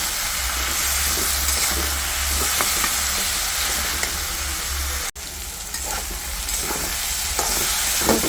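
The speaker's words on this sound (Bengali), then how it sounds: "এখন একসাথে মশলাটা ভাজা ভাজা করে নেব।" Turmeric powder, dry chili powder and slit green chilies frying together in hot oil while being stirred, a steady close sizzle with scraping stir strokes and a brief break partway through.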